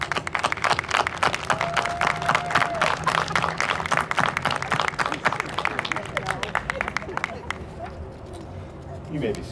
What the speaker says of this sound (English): So graduates, please stand and give a big round of applause for your family and your friends.